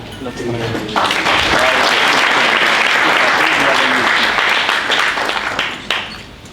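Audience at a security summit ideathon applauds loudly for a presenter, a full sustained wash of clapping that swells after a second and holds, with some voices mixed in.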